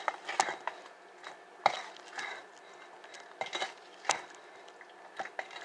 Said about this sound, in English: I'm going to mix all the ingredients.